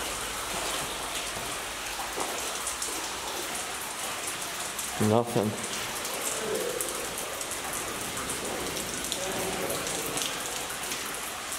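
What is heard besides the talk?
water running in an abandoned tunnel under Minneapolis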